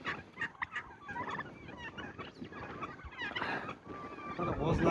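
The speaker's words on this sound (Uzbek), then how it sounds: "Mana g'ozlarimiz mana bir qismi bu yoqda yuribdi" Geese on a village farmyard give repeated honking and gabbling calls close by, overlapping in irregular bursts that grow louder toward the end, with a voice faintly mixed in among them.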